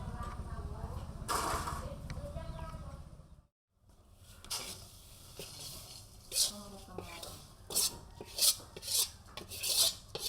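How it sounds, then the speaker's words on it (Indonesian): Sago flour dry-roasting in a pan for a Pekanbaru snack, stirred and turned without pause, giving repeated scraping, rasping strokes, some louder and sharper than others, close by and mostly alone. "Saat disangrai, tepung sagu harus terus dibolak-balik agar tidak gosong."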